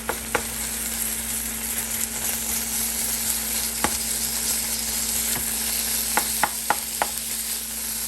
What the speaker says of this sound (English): So I put olive oil in the pan.